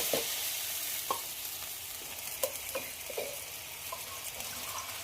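Ground mustard and green chilli paste frying in a pan with tomato for a spicy mourala fish chorchori, a soft, fairly quiet sizzle with scattered light stirring clicks and no talk.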